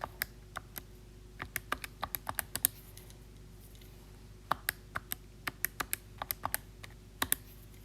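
Calculator keys tapped in quick irregular bursts of crisp, close clicks, with a short pause in the middle, over a quiet room hum.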